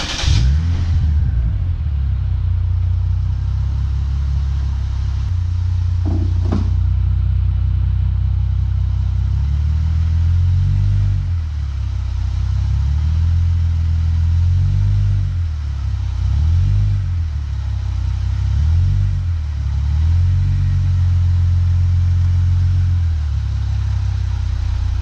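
A Lexus IS250/IS350 engine rumbles at low revs, held close and steady, as the car is eased up onto ramps, with gentle swells in engine pitch and a brief clunk early on.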